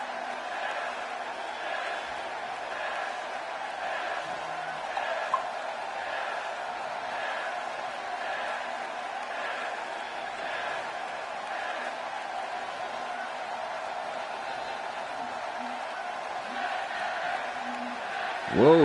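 A wrestling video game arena crowd for a GMW match keeps up a steady, loud cheering roar with rhythmic chanting swells across the whole stretch, then surges briefly at the end.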